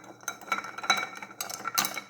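Ice cubes being stirred in a glass for a bourbon Old Fashioned cocktail, heard as a string of close, light clinks and rattles in uneven bursts, with no talk.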